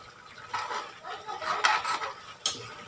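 Spicy pork and chicken adobo stirred in a pan, with several clinks and scrapes of a utensil against the pan at an uneven pace, close and fairly soft.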